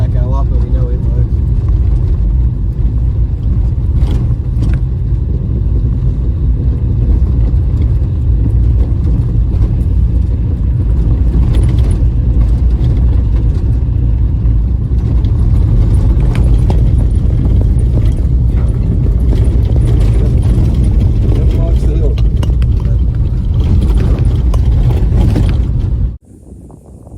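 A VK Dodge ute with a Pacer engine runs and drives, giving a steady, loud, rough low rumble with mechanical rattles that continues throughout and then cuts off abruptly at the end.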